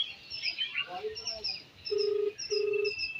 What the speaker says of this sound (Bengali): রিং হচ্ছে কিন্তু ফোনটা এখন ফোনটা ধরলো না